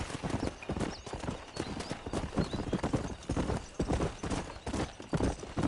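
A horse gallops in the Red Dead Redemption video game, its hooves beating out a fast, continuous clip-clop rhythm close by, with a brief whinny and faint game ambience underneath.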